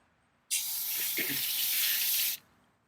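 Water runs from a tap into a container holding grass seed, a loud steady rushing that starts abruptly, holds for about two seconds, then stops.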